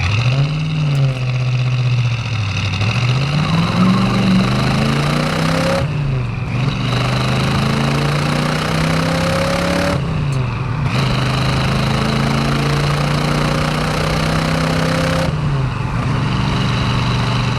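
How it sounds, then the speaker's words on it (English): A 1966 Ford Mustang with its original 289 V8 and four-speed manual, revved repeatedly in close, loud bursts that rise and fall in pitch between steady idle stretches, with brief dips where the throttle drops off. "Let's see if we can't wind up this 289 a little bit here."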